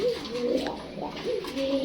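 Pigeons coo steadily at a pigeon shop stocked with cages, several soft rolling calls overlapping close by with no voices.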